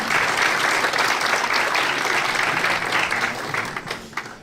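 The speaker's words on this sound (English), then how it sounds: "So give her a quick round of applause." An audience at a talk on the subconscious mind claps in a sustained, even round of applause that holds steady for several seconds, then thins out and fades near the end, with no one speaking.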